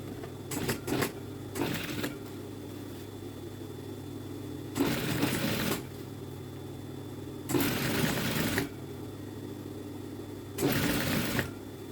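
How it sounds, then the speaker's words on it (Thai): A sewing machine stitching fabric along a seam: a few short clattering bursts, then three separate runs of about a second each, with quiet pauses between, close and moderately loud. "เย็บได้ข้างหนึ่งแล้ว เราก็เอาข้างหนึ่งเข้ามาเย็บแบบนี้นะคะ"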